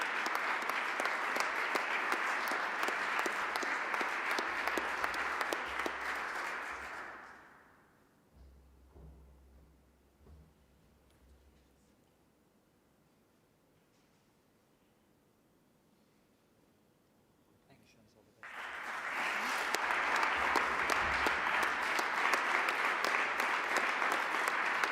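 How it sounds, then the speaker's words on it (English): Audience applause at a university graduation ceremony, a loud sustained clapping that fades to quiet for several seconds, then swells back up at full strength. "A big applause for Jasmin Strobel."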